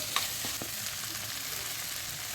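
Steady, close sizzling of curry leaves frying in hot oil, a soft crackle with a few small pops.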